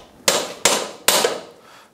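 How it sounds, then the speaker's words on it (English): Three sharp metallic hammer blows strike a blunt chisel wedged against the CV joint on a Yamaha YXZ1000R side-by-side axle, evenly spaced and close, each ringing briefly before the next. "So we're going to use a chisel, but one with a fairly blunt edge because we're going to put it right in here and then"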